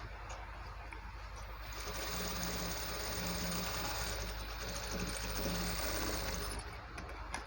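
A sewing machine stitches folded can-can net fabric for a lehenga, a steady mechanical whir with rapid needle rhythm running almost continuously, close and alone.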